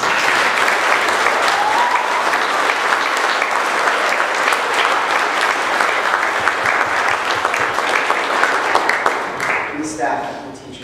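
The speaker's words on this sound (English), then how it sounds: "okay, we can clap for them" Audience applause at a graduation ceremony, loud sustained clapping from a full room that carries on evenly before tapering off near the end, with a voice speaking under it.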